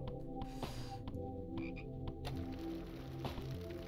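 Repeated frog croaks inside the House horror video game, loud and close, sounding continuously over a low droning background with no talk.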